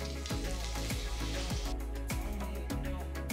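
Steady sizzling of spices frying in hot oil, a continuous crackle with repeated low thumps as the pan is stirred.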